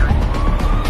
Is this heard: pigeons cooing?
no